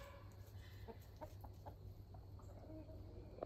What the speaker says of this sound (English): The chickens and roosters are going off right now, so if you hear them, I'm sorry.